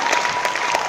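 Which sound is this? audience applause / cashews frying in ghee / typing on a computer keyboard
audience applause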